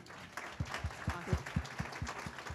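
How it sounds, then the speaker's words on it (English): At a breakfast event for female founders, a small audience claps in a brief, loose patter of distinct hand claps, fairly quiet and roomy, with a murmur of voices beneath. "let us applaud every time they answer"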